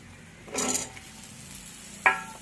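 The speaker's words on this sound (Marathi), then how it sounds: "आता यामध्ये घालायचे आहेत आपल्याला शेवग्याच्या शेंगा।" Drumstick pods are stirred into a frying masala for a dhaba-style drumstick curry: a short burst of sizzling and scraping, then quiet, then one sharp metallic clink of the spoon against the pan.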